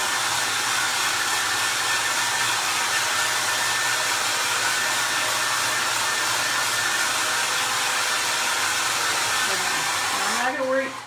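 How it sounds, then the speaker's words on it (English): A hair dryer blows steadily and loudly for about eleven seconds, drying a craft project made from a recycled vegetable can, then cuts off abruptly at the very end. "Sorry to have to listen to the dryer going, guys."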